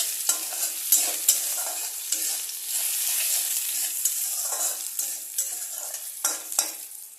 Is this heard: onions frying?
yes